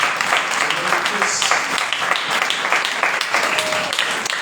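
A church congregation claps loudly together for Jesus during a sermon, a dense sustained burst of many hands running continuously for several seconds, with voices mixed in underneath.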